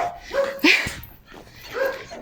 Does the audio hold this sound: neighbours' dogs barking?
yes